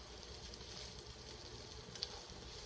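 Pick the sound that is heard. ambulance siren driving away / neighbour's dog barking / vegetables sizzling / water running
vegetables sizzling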